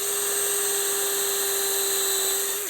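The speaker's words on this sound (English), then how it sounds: "drill a pilot hole" A blunt metal drill bit bores a pilot hole into hardwood for a beehive pallet, a steady high-pitched whine held at constant speed for nearly three seconds and ending abruptly, close and loud with no talk.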